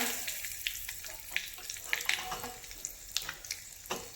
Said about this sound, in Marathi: इथे मी तडका पण पॅन ठेवून घेतला आहे तेल टाकले जिरी थोडासा हिंग